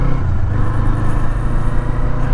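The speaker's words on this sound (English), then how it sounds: "Nope, not a cop. This is a truck." Heavy truck passing on the road beside a ridden Kawasaki Eliminator 500 motorcycle, a loud, steady engine drone that dominates throughout with no talk.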